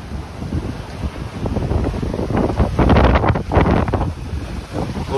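Strong 30-35 knot wind roars across a sailboat running downwind on passage from the Bahamas to Bermuda, a loud, steady broadband rush that surges and swells with gusts and waves.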